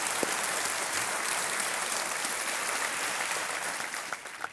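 Studio audience applauding on a televised quiz game show set, a dense, steady wash of clapping that holds loud throughout and only starts to thin out in the final half second.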